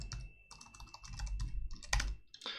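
Rapid, uneven clatter of keys on a computer keyboard as code is typed in an ASP.NET Core 6 MVC blog project, close and alone with no talking.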